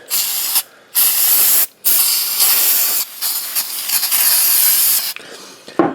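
Brake cleaner hissing from an aerosol can onto riding lawn mower Kohler engine parts in loud, steady bursts with short pauses between, ending in a final short spurt.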